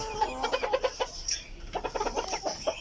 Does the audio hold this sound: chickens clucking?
yes